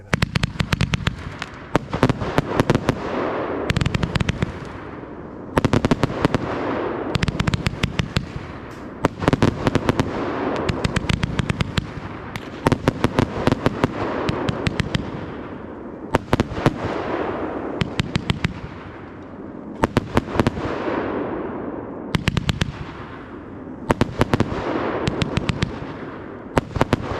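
New Year's 2024 fireworks going off in rapid volleys of loud cracks and booming bursts, with crackling tails between them, nearby and continuous throughout.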